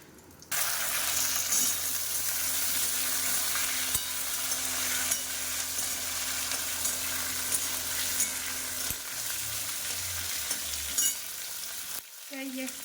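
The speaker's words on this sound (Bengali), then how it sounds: "দিয়ে দিলাম দুটো শুকনো লঙ্কা দুটো তেজপাতা তো মশলাটা একটুখানি ভেজে নিয়ে আসছি" Whole spices with two dried red chillies and two bay leaves fry in hot oil in a pan, a bright, steady close sizzle that starts abruptly and continues, with a few stirring knocks and a brief pause near the end.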